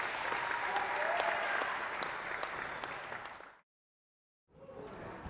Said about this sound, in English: would you join me in another warm round of applause